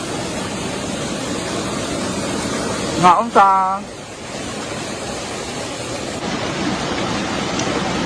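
Steady, fairly loud rushing of flowing water at an outdoor swimming spot runs continuously, with a short burst of voices talking over it midway.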